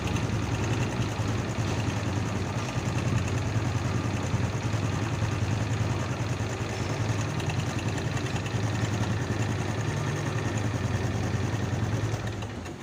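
A Honda Supra X 125 motorcycle engine with a rough-running fault, revving steadily and continuously up close with a coarse, even drone throughout, no pauses.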